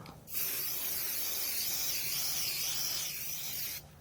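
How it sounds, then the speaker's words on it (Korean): Spray can aimed at a car's side mirror in a parking garage, one continuous close hiss of about three and a half seconds, starting and stopping sharply. "사이드 미러에 그냥 뿌려만 주시면 됩니다 자 그냥 스프레이식이에요 그냥 뿌려볼게요"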